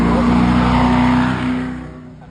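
A convertible sports car revs hard at the Gumball 3000 hill climb, a loud, close, sustained engine roar that holds high then fades as the car pulls away.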